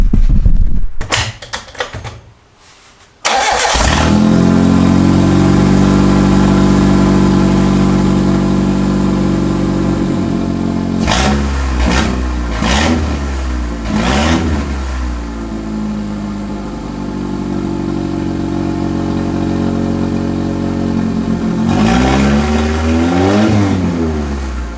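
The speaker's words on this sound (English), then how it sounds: "I'm going to turn the car on and we'll see what it sounds like" Mitsubishi Lancer with a turbocharged 4G15 engine and a custom 2.5-inch exhaust with dump pipe, starting up, then idling with a deep steady rumble broken by several sharp revs that climb and fall back, loud and near.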